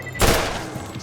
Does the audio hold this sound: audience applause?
no